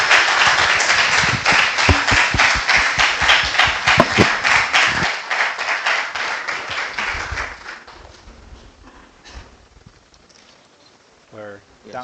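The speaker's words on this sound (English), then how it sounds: "Please give a huge round of applause for Professor Hitao." A crowd applauds a university lecture with dense, steady clapping that gradually thins out and fades, followed by a faint voice at the end.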